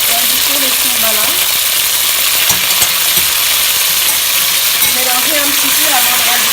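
Onions with salt and sombala fry and get stirred in a pan for a Malian fakoye dish, giving a steady close sizzle with scraping stirs throughout and no one talking.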